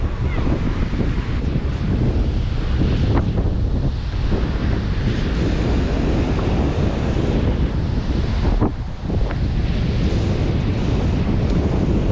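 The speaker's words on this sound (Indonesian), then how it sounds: "yang bisa kita nikmati suasana pantai atau sunrise di sore hari" Waves and wind at Ulee Lheue Beach in Banda Aceh, a continuous loud surf wash with steady wind roar buffeting the microphone, one brief dip partway through, no talking.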